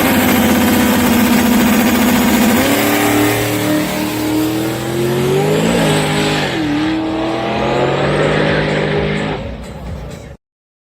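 Car engine pulling hard on a run, droning and climbing in pitch, dipping and rising through a rough gear shift midway, then revving on before cutting out abruptly near the end; loud and close throughout.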